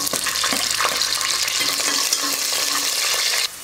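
Green chillies and garlic sizzle and crackle loudly in hot oil alongside whole spices for a tomato rice dish, a close, continuous frying hiss with stirring scrapes, ending abruptly.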